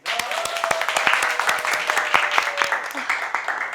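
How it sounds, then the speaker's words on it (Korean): Audience applause opening a talk, a few seconds of dense, fairly close clapping from a small crowd, steady and alone before speech begins. "박수로 시작하겠습니다."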